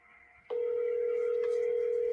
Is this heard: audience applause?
no